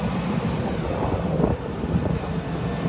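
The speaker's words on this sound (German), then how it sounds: "Jetzt betrete ich das Flugzeug" An airplane's steady engine roar and broadband cabin rumble during boarding, loud and continuous with no talk over it.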